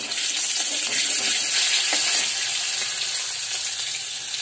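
Whole cumin seeds sizzling in hot oil for a Bengali home-cooked dish: a steady, bright frying hiss, close and fairly loud, with no talking.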